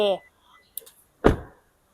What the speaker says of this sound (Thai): เดี๋ยวขออนุญาตปิดประตูสักนิดหนึ่ง